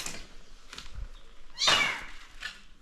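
A cat meows a few times, short rising cries with one louder, drawn-out meow in the middle, fairly close with some background noise.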